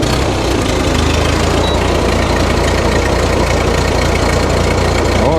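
A Ford 9N/2N tractor engine runs with a loud, steady low chugging idle and rhythmic knocking pulses, close and continuous throughout, with no talking.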